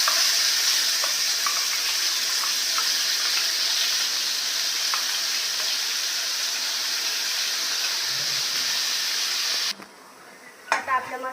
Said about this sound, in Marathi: आपलं तेल तापलंय, आपण मसाला फ्राय करून घेऊ.